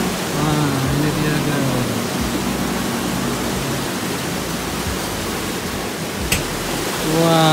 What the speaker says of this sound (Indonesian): air terjun, wisata air terjun Jagir